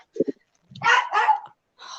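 A dog gives a few short, sharp barks and yips in a studio setting: a quick low double bark, then two louder, longer barks and a fainter one at the end, close and clear with no talk over them.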